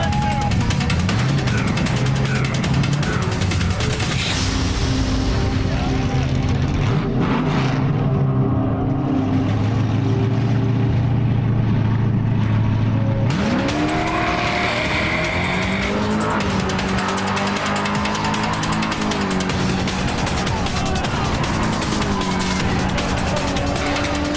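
A street racing car on an L.A. street does a burnout, its engine roaring steadily with tire squeal and skidding, near and loud throughout, with a pitch shift midway as the revs change.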